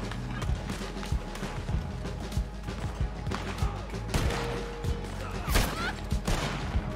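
Gunfire in a Red Dead Redemption 2 Online knife-only King of the Castle PvP match: scattered sharp shots and impacts, fairly close, over a busy game soundscape with no voices in between.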